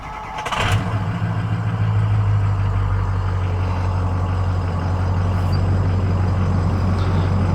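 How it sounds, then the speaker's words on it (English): A 2005 Ford F250 Super Duty Powerstroke diesel cranks briefly and fires up, then settles into a loud, steady, rumbling idle that continues unbroken to the end. "now let's go ahead and start the engine"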